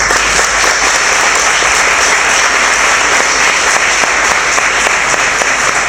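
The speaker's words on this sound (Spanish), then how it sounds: "y voy a pedir un aplauso para ellos." Audience applause for two speakers at a talk or conference, loud, dense and sustained clapping filling the room evenly with no voices over it.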